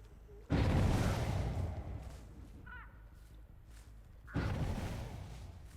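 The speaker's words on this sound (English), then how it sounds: "I'm hearing explosions all over the damn place" Two loud, booming explosions in the Dead by Daylight video game, each a sudden broadband blast that rings out and slowly decays, the first early and the second a few seconds later, with a faint tonal chirp between them.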